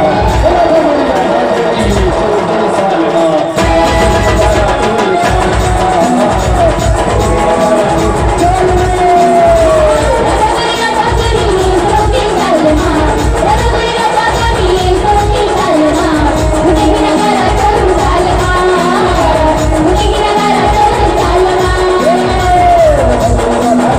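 A loud, continuous crowd roar of cheering and shouting fills a Faag folk-song gathering in Achhra, Balod, and stays dense and unbroken throughout.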